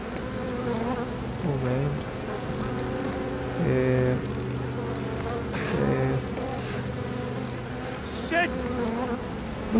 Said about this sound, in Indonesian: Nyamuk kok gede-gede kayak gitu ya?